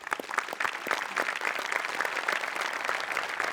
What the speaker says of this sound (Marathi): सेटिंगवाल्यांसाठी सुद्धा एकदा टाळ्या व्हायला पाहिजे